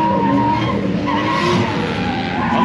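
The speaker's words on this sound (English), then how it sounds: "this is what was out here drifting last time" A drift car at Orlando Speed World skids steadily, its tires screeching over a continuous engine roar. The sound is loud and close and holds for the whole stretch.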